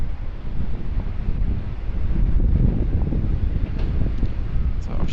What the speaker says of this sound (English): It's just that wind starting to pick up again.